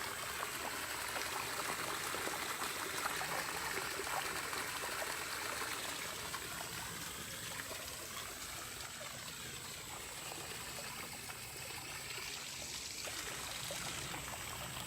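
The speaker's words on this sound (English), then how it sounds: "I just wanted to show y'all that we do got the water back running." Running water streams and trickles steadily outdoors, a soft continuous babble with gentle gurgling that stays even throughout, with no talking over it.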